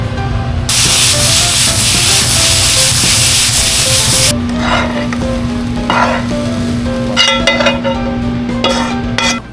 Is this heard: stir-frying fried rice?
yes